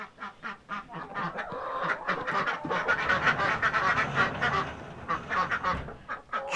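A flock of farm ducks quacks and honks in the morning, a busy overlapping chorus of calls at moderate volume that grows denser in the middle, with no talk.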